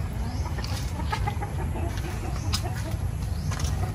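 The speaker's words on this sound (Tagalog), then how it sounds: "Mga manok natin nagmimerienda na lang po ng damo." Free-range chickens in a rural yard pecking at grass, soft clucks and scattered calls over a steady low background hum, with people talking nearby.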